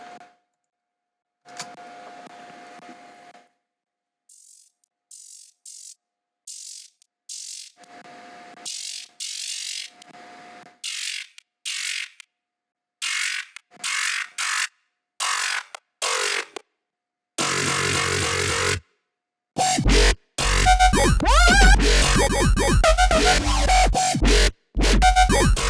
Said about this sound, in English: I wanna show you how the drop sounds without anything else.